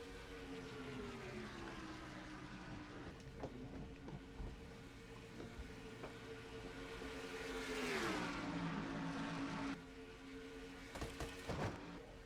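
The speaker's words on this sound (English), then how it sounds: "Boy, Navarro's got some horsepower in that 42 machine." Race car engines in a racing video game roar continuously, pitch rising and falling as cars jostle for the lead, with a sweeping pass midway and clicks near the end.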